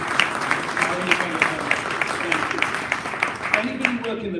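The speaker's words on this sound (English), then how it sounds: "Why don't we give a big round of applause to the people who make it really happen?" A conference audience gives a round of applause, a sustained clatter of many hands with some rhythmic clapping, while speech is heard over it.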